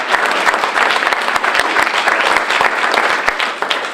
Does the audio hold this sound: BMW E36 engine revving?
no